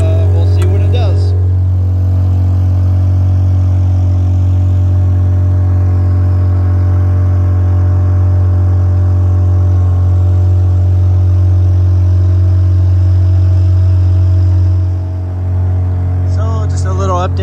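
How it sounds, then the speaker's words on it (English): An older Honda BF2 2 HP outboard motor pushing a Montgomery 17 sailboat drones with a steady, loud, low hum that holds unbroken for over fifteen seconds. "So this is just a BF2 older motor, and we'll see what it does."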